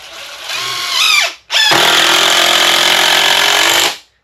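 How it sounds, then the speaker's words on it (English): A power drill drives screws through clamps while a cheap fishing rod holder is built: a short whine that rises in pitch, a brief pause, then a longer steady buzzing run. It is close and loud, with no voices. "we're going to put 2 screws in"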